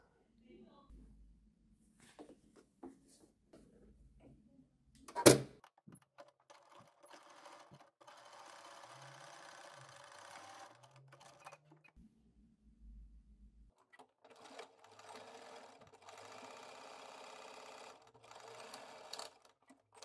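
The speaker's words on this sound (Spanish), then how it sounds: "Queda así cosido con el pespunte de sobrecargado" A sewing machine runs overstitch seams on poplin fabric in bursts of steady whirring mechanical stitching, broken by pauses, a sharp clack and quiet handling noises.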